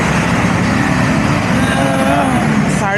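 A car engine runs with a steady, loud, close rumble that fills the whole stretch, with a voice speaking over it.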